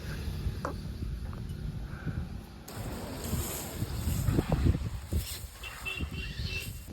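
Wind blows across an open farm field where someone sits under a tree, heard as a continuous rough rumble and buffeting close to the microphone, with faint bird calls in the distance.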